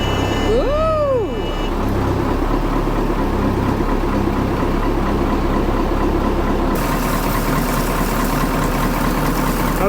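A steady, rumbling boat engine idles continuously up close, with a brief whistling squeal near the start and no talking.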